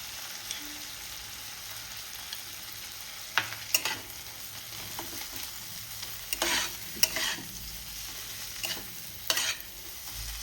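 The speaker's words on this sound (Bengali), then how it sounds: "এটা একটু ভেজে নেব" Coconut paste frying with ridge gourd in a pan gives a soft, constant sizzle, broken by several sharp scrapes of stirring spaced through the stretch.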